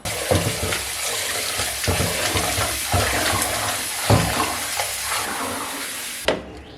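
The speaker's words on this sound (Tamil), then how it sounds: "சாப்பாடு வைக்கிறதுக்கு அரிசியை கழுவிட்டு ஊற வச்சிடலாம்" Rice is washed by hand in water before soaking, with continuous splashing and swishing close up and a few louder sloshes along the way.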